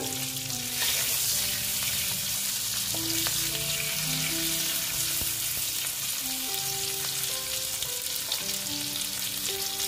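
Boiled potatoes frying in oil with salt, a steady close sizzle running throughout with intermittent scraping and stirring strokes.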